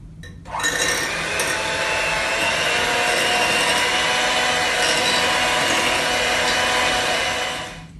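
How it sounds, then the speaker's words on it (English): An electric mixer with a blender attachment churns milk slowly into cake batter, a steady loud whirring hum that starts after a brief pause and runs continuously before tapering off at the end. "We changed the attachments from a whip to a blender, and we're going to start blending the milk in slowly."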